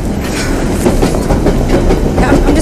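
A train rumbles loudly and steadily with clickety-clack wheel noise, heard close up from on or beside the carriages, with no talking.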